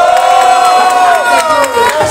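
A rap battle audience cheers and claps loudly, a dense, sustained roar of voices and applause filling the whole moment at close range.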